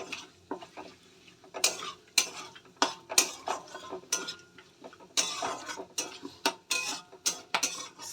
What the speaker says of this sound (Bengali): ফোড়নটা একটু ভেজে নেব।